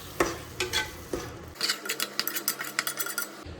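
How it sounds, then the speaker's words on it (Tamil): Chicken biryani masala mixed with curd is stirred in a pot, with a run of close, wet, rhythmic scraping strokes after a few earlier clatters. "ஸோ லைட்டாக ஒரு மிக்சிங் போட்டுடலாம்."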